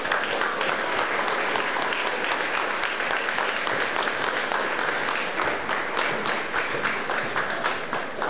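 An audience in a school concert hall applauds as the seventh grade choir takes the stage, dense steady clapping from many hands, sustained and evenly loud throughout.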